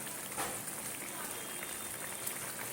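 Prawn curry simmering in a pot, a soft, steady bubbling hiss with faint pops, low and continuous throughout.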